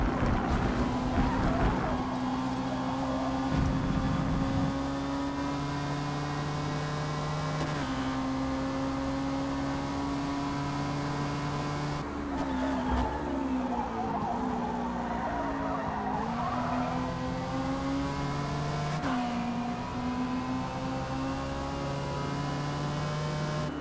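Race cars in a D Class event circle a dirt track, engines droning and shifting pitch continuously at moderate distance with occasional sliding tire noise and no talk.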